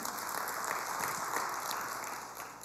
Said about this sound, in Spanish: Démosle un fuerte aplauso al Señor